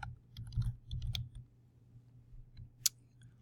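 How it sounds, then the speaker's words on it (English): A few quick clusters of keystrokes on a computer keyboard, soft close taps in short bursts followed by a pause and one sharper click. "I'm going to start off by typing in my title"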